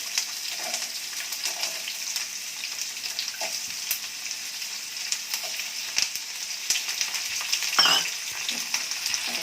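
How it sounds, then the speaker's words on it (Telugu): Onion pieces sizzle in hot oil in a pan alongside curry leaves while being stirred, a steady close frying hiss broken by occasional scraping and clinks of the spoon. "తర్వాత ఉల్లిపాయ ముక్కలు వేసి ఒకసారి ఇట్లా తిప్పుతాము"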